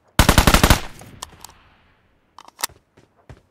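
A rapid burst of automatic gunfire from a weapon in PUBG Mobile, about nine quick loud shots, followed by a fading tail and a few scattered softer clicks and impacts.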